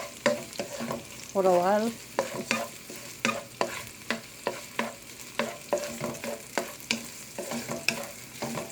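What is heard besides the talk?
stir-frying garlic and green onion in a pan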